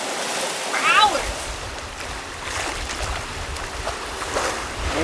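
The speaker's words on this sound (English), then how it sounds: "We are sailing. Hopefully for hours." A sailboat glides under sail with its engine off, water rushing and splashing steadily along the hull in a soft, continuous wash, with a brief voice early on.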